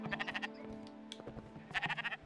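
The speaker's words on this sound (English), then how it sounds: "No, it's a sheep." A sheep in the video game Spiritfarer bleats in two bursts, a wavering cry at the start and another near the end, with quieter game sounds between them.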